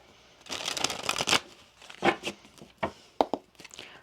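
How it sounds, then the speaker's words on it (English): Tarot cards being shuffled by hand in several quick riffling bursts with short pauses between them, close and crisp with no talking. "One more shuffle here."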